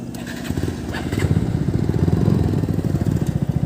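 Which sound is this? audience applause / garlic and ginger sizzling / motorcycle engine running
motorcycle engine running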